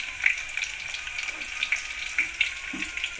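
Vegetables for masala khichdi fry in a pan with a constant soft sizzle and intermittent crackles and light stirring clicks, heard up close.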